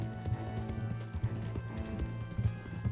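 A horse gallops in the video game Red Dead Redemption 2, its hooves beating in a quick, steady rhythm with low rumbling, moderately loud, with no talk.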